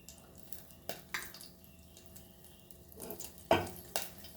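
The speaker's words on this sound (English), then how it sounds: "So 1 teaspoon of oil, and we'll put our curry leaves." Curry leaves sizzle in a teaspoon of hot frying oil for a Goan crab curry, making a soft crackle with a few sharper spits and pops, close and quiet, with no talking.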